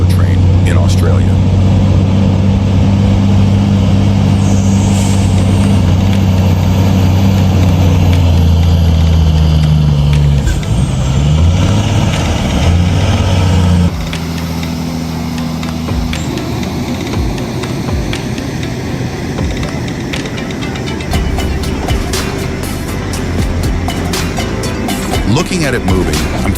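A Kenworth road train, a truck hauling three trailers, rumbles with a loud, steady low diesel drone in Australia, its pitch shifting partway through as it drives on continuously.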